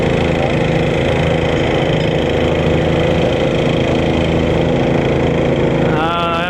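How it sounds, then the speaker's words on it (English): A garden tractor engine roars loud and steady at a garden tractor pull in the 1,000-pound super stock class, a droning mid-pitched growl close by that holds for the whole stretch. "ATV garden tractor pull."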